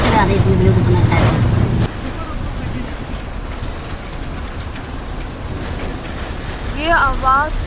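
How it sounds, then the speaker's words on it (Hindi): Heavy rain with hail pounds down in a fierce storm, a dense steady roar loudest at the start, with voices talking over it and a short whistling or chirping sound near the end. "ये आवाज सुनो बालाजी ने क्या बारिश करी है क्या गड़े पड़ रहे हैं इतना तेज तूफान।"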